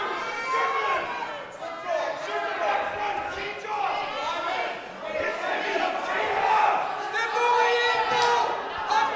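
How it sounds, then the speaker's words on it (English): Crowd noise at a high school wrestling match between Danbury and Fairfield Warde swells and stays loud throughout, a broad roar of cheering and shouting with voices mixed in. "Crowd climbing into it now."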